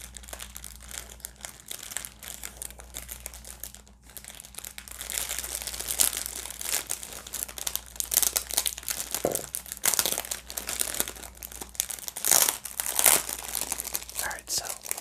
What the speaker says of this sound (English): I love how crinkly this plastic is.